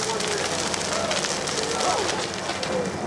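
A large fire engulfs a cellulose-insulated test building with a constant, dense roar and crackle of burning that stays loud throughout.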